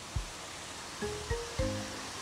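A garden waterfall beside a pond gives a steady, rushing wash of falling water, with a few soft thumps and faint tonal sounds over it.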